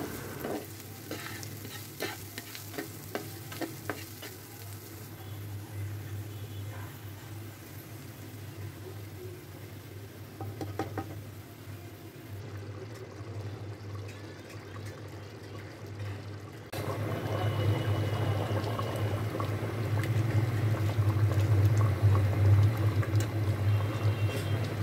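Chana dal frying and then cooking with long-simmered bone marrow pieces, a continuous sizzle with stirring scrapes and a low hum, turning louder and fuller partway through as more ingredients go in.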